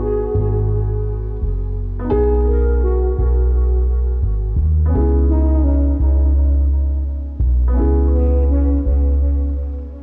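Duplicated bass line treated with EQ, compression, kick sidechain and warm distortion, playing a loud, steady low pattern of repeated notes with rhythmic pumping dips, alone without talk.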